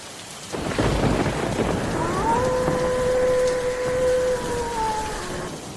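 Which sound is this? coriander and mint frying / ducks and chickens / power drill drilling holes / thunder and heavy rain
thunder and heavy rain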